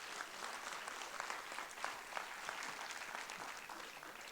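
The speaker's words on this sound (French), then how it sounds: "une bonne main d'applaudissements pour eux" Faint, distant applause from the audience at a local school talent show final, a steady wash of many hands clapping with a few sharper claps standing out, no voices.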